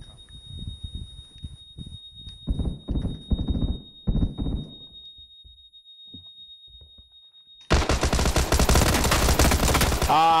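Gunfire in the battle royale game PUBG breaks out as loud, dense, rapid shots for the last few seconds, after voice chat and a quiet stretch.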